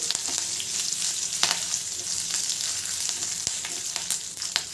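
Bydagi chillies and curry leaves fry in oil in a pan for pineapple curry, a close, continuous sizzle punctuated by sharp crackles and scraping stirs.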